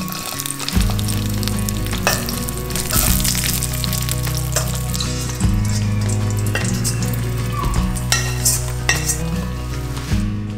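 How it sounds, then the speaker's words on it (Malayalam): Cashews and raisins frying in about two teaspoons of hot ghee in a pan on the stove for payasam: a steady crackling sizzle with stirring clatter, over a continuous tonal background that sounds like music. "ഇനി ഒരു പാത്രം അടുപ്പിൽ വെച്ച് 2 ടീസ്പൂൺ നെയ്യൊഴിച്ച് കുറച്ച് അണ്ടിപ്പരിപ്പും കുറച്ച് മുന്തിരിയും വറുത്ത് പായസത്തിലൊഴിക്കാം"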